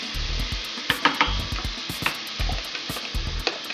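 Blended carrots and vegetables sizzle in hot olive oil, a bright crackling hiss broken by several scrapes and clatters of stirring in the pan, close up.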